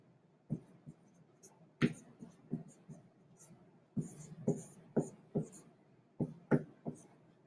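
A pen or marker scratches and taps on paper while a physics diagram of a football player pushing a blocking sled is drawn by hand, in short irregular strokes, close and quiet, with faint speech in the background.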